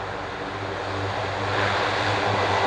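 A Piper PA-28 light propeller aircraft takes off on runway 27 at the Royal International Air Tattoo, its engine drone holding steady, then growing louder and broader as it accelerates, with no voices.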